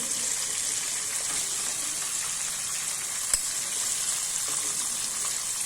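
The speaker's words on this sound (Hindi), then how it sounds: "ये हमारे फ्राई हो रहे हैं" KFC-style crispy chicken drumsticks frying in hot oil, a steady soft sizzle with a faint click partway through, with no talk over it.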